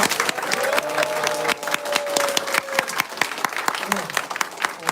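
Clapping from the audience at a Dongdaemun district mayoral candidates' forum on disability policy, with sharp individual claps standing out in the applause, and a raised voice or cheer sustained over it near the start.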